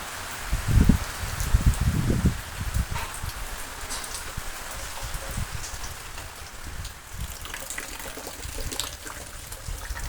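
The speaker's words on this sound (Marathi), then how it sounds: "बघू शकता पाऊस बी चालू आहे वरून" Steady rain patters on an open cowshed, with heavier drops and splashes near the start over a constant wet hiss.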